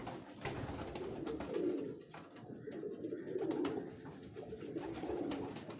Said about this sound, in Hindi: ये जो तार वाले कबूतर है, ये कमल खासा, ये प्योर कमल